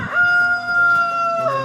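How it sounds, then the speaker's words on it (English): A black copper Maran rooster crows once, a loud, close, drawn-out cock-a-doodle-doo that holds a clear, steady pitch before breaking off at the end. No voices are heard. "Black copper Moran rooster."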